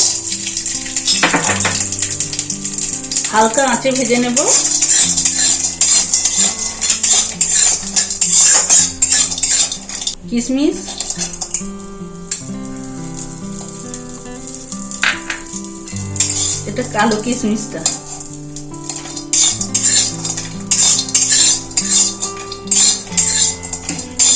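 Cashews fry in hot ghee in a pan, a bright continuous sizzle broken by repeated metal spoon clinks and scrapes as they are stirred, close up and without talk.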